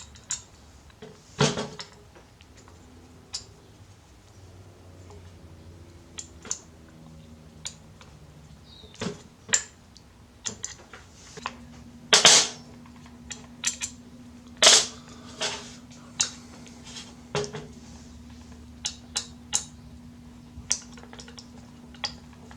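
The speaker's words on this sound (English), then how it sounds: "let's take the spark plug out. The cylinder bolts here, and then one on this side." Spark plug and cylinder bolts being unscrewed on a weed eater: scattered sharp metallic clicks and ratchet-like ticks, with a few louder cracking snaps as bolts break loose, spaced irregularly over quiet room tone.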